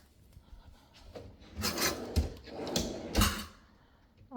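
A soft-close cabinet drawer glides shut in a house kitchen, giving a few rubbing, sliding swishes with soft thuds around the middle of the stretch, fairly close and moderately quiet, with no talking.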